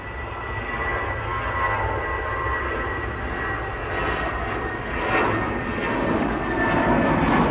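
Airliner departing Manchester Airport, a loud sustained jet roar that swells slightly toward the end, heard from nearby with no voices.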